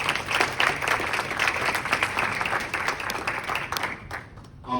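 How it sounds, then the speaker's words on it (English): A town hall audience gives a round of applause, a full room of dense steady clapping that carries on for several seconds and thins out right at the end. "Let's give them a round of applause."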